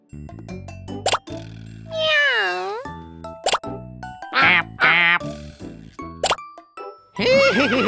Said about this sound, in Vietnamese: hãy mau tìm tiếng vịt kêu nha